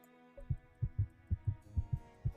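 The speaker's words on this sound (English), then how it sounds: "You can hear Artem's heartbeat." A steady synthetic heartbeat from the Tears of Themis otome game thumps in an even rhythm of about eight soft, low beats over a quiet sustained hum, with no voices.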